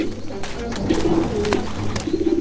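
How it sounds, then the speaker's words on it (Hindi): A pigeon fallen on the ground with kite string tangled around its feet coos softly while its wings flap in a few brief, fluttering bursts, close by with no one speaking. "एक कबूतर बुरी तरह जमीन पर गिरा और फड़फड़ा रहा था।"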